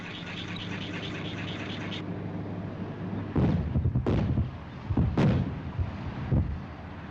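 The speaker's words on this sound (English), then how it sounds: "150 pounds of explosives are placed in the holes and detonated" Explosive charges detonated in drilled holes in a tunnel rock face, heard as several heavy booming blasts in quick succession after a steady mechanical drone cuts out.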